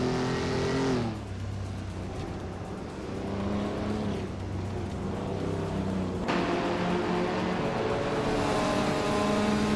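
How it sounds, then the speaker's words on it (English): A 1970 Nissan Fairlady Z432 racing engine in a video game, a steady droning exhaust note with shifting pitch as it accelerates and changes gears, continuous and close. "Cobra Cull is driving a Nissan Fairlady Z432 from 1970"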